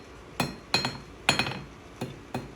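A blacksmith's hammer strikes hot metal on an anvil while drawing it down to a sharp point. Five sharp ringing blows land at an uneven pace, close and clear, with no talking.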